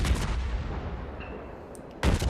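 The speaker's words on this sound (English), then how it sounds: "that was one salvo, front and back guns" A naval gun salvo in World of Warships, firing front and back turrets, bursts out loud, with a heavy boom that rolls off into a fading rumble before a second sharp blast at the end.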